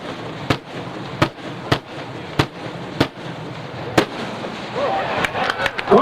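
An 8-inch aerial firework shell with eleven reports fires at a 1996 PGI fireworks convention in Muskegon, Michigan: a string of sharp, evenly spaced booms rings out, then a burst of crackling, with faint crowd voices beneath.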